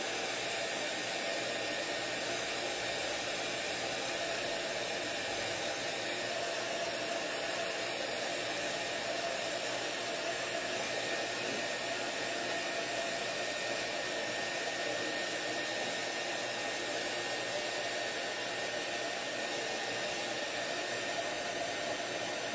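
A hair dryer runs continuously and loudly at close range over decoupage paper laid on styrofoam, a steady unbroken whoosh with no voices.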